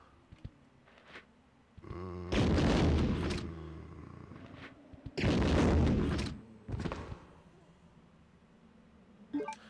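Grenade launcher fired at a tough zombie in Resident Evil 2, two loud booming blasts a few seconds apart with short trailing rumbles, plus smaller thuds and clicks between them.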